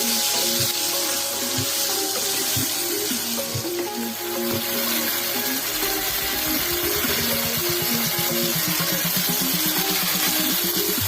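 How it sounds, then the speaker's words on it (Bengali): Chopped tomatoes and spices sauté in a hot pan for a fish curry with yam, giving a steady, loud sizzle and frying crackle throughout, with occasional stirring clatter and no voices. "টমেটো দিয়ে আবারও কিছু সময় কষিয়ে নেব।"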